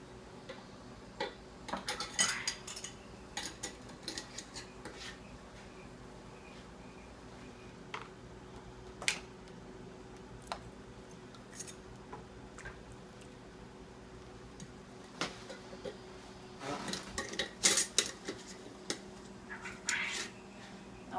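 Metal canning jar rings and lids clink and tick while quail is packed into jars for pressure canning; scattered faint clicks and small taps come in loose bursts over a quiet room hum, close by and with no voices.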